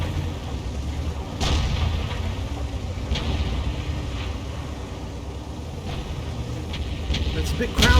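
Tank cannons fire in a tank video game featuring the K-91-PT: a few heavy booming blasts ring out at intervals over a constant low engine rumble, with one loud shot right at the end.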